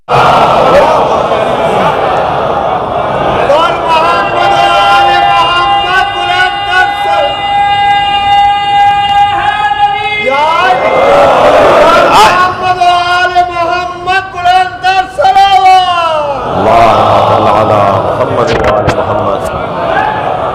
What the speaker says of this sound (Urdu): صلوات پڑھنے دو محمد و آل محمد